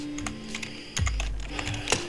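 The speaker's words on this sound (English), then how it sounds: "I'm going to type in" Keys clatter on a computer keyboard in quick, uneven bursts of close, light taps with a short pause between, no voices.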